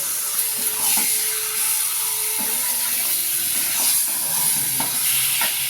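Chicken liver being stir-fried in a pan, cooked down in kosha style: a steady loud sizzle and hiss with occasional scraping stirs, no talking.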